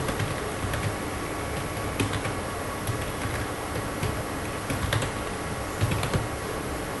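Someone types an email address on a computer keyboard, producing quiet, irregular bursts of key clicks with brief pauses between them in a calm room.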